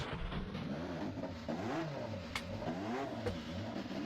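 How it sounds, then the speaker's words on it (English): Indy car engines in NASCAR Racing 2003 fire up and rev, a faint, rough mid-pitched drone rising and falling in repeated throttle blips with light clattering ticks underneath. "Drivers, start your engines!"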